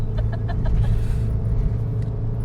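Inside a moving car on an Indian highway, a steady, loud low engine and road rumble drones throughout, with faint rhythmic ticking and clicks from the cabin.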